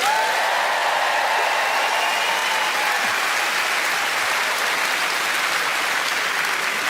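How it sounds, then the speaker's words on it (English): Audience at a stand-up comedy show breaks into a dense, sustained wave of applause, loud and even from start to finish with no talk over it. "Wave of applause."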